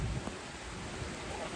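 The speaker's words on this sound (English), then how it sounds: "The rain is starting to really pick up now." Rain picks up outdoors, a steady, soft hiss of falling drops across the whole scene with a faint low rumble.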